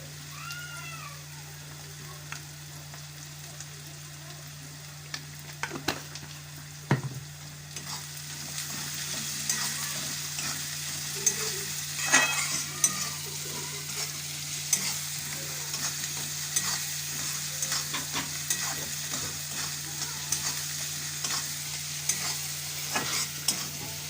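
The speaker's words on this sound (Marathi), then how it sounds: "थोडा लालसर झाला ना की थोडं मीठ टाकायचं, म्हणजे कांदा मस्त शिजतो।" Onions frying in a pan for an aloo methi dish, a steady sizzle with repeated scraping stirs, plus a low constant hum and a few faint meows in the background.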